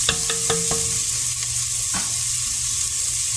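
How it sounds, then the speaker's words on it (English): Vegetables searing in a couple tablespoons of oil in a pot for birria give a steady, close sizzle, with a few sharp utensil clinks and scrapes early on and no talking. "Just enough to get these veggies to start searing off."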